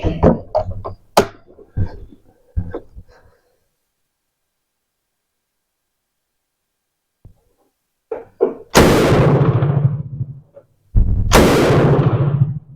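A Bren gun with a new slide hammer assembly on a Mk3 lower receiver fires loud, sharp shots, two heavy bursts late in the clip after handling clicks and a quiet pause.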